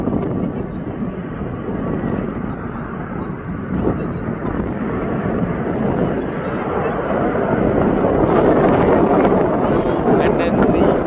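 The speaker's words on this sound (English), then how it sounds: "Jet 2 is on his way out" Jet2 airliner departing Birmingham Airport, its broad roaring engine noise sustained and steady throughout and swelling slightly toward the end, with some wind buffeting on the microphone.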